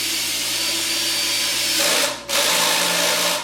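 A power drill drives screws into a wooden cabinet face frame with its clutch set, giving a loud, close, continuous whir that briefly drops out before resuming, its pitch shifting as the screw seats.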